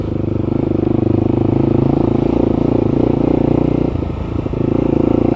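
A motorcycle engine rides on country lanes and byways in Kent, its loud, steady throbbing close by and continuous. The note dips briefly toward the end before it picks up again.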